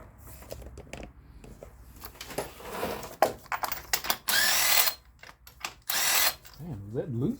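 Socket wrench loosening spark plugs on a car engine: quick ratcheting clicks and metallic scrapes come in short bursts, with two longer rasping stretches, close and fairly quiet.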